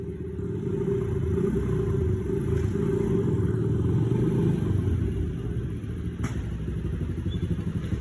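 A motorcycle engine runs in a steady, continuous low rumble close by, with faint clatter and an occasional thump over the drone; no one talks.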